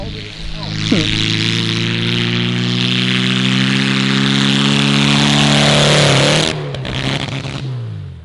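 A VW Golf engine with damage from running on frying oil drones loudly and steadily up close, then stumbles and chokes as the pitch sags before it catches again.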